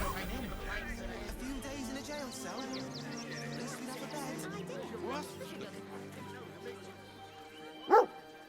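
Dogs in the Baldur's Gate 3 video game barking and whimpering softly beneath continuous talk, ending in one sharp, louder bark near the close.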